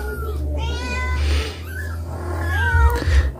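A mother cat with her young kittens meows repeatedly, several drawn-out cries close by, over a steady low hum, with faint talk in the background.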